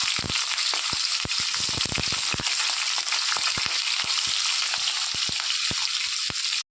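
Paneer pieces fry in ghee in a wok over a medium flame, a loud continuous sizzle broken by frequent sharp scraping and stirring clicks, close up and without talk.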